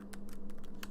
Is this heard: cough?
no